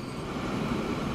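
In the Transport Fever 2 video game, a train pulls in with a steady, fairly loud rolling rumble that holds evenly throughout, with no speech over it.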